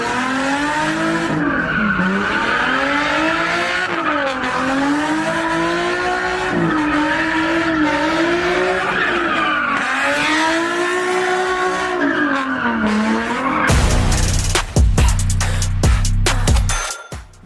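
A car drifting at the Tuner Festival 2024, with loud, continuous tire squeal and a wavering, revving engine, ending in a harsher, louder burst of engine and tire noise near the close.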